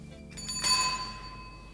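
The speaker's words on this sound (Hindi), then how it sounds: "साइकिल की घंटी दे दीजिए।" A bicycle bell rings once with a bright metallic ding that lingers and fades, preceded by a brief lighter tap, close and clear over a quiet background.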